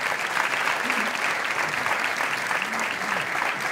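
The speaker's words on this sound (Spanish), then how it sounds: "este aplauso también es para ti" Steady audience applause at a gala awards ceremony, a dense, even patter of many hands clapping throughout with faint voices underneath.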